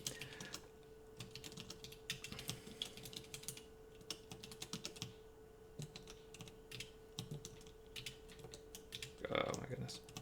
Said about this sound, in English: if you could see the keyboard I'm typing on, you would ask questions about why I was typing on this keyboard